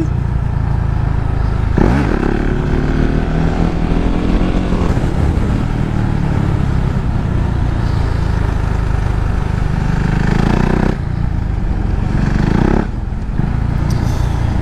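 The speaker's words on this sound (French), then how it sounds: "on fait embrayage, coup de gaz et puis hop, ça part" A motorcycle engine roars loudly and continuously as the rider launches a wheelie, with the revs surging and rising around the two-second mark before holding at a steady, heavy drone.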